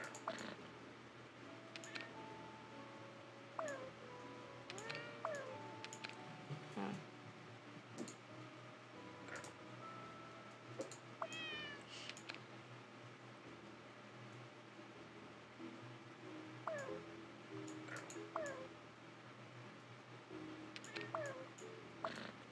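Several cats meow repeatedly in a game where cats are arranged neatly, with short rising calls scattered across the clip over soft clicking and a low steady background hum.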